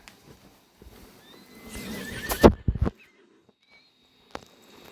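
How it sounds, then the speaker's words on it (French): A pony in a video game neighs loudly with a rising whinny, followed by a few brief hoof clops and a faint later knock, set against a quiet background. "T'as vu le poney à droite?"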